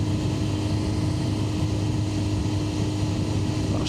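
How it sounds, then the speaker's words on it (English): A Honda CBR600F four-cylinder motorcycle engine drones steadily at constant revs throughout, loud and close, with no voices, ridden on Yorkshire roads. "That sound from that engine, just incredible."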